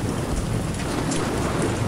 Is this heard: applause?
no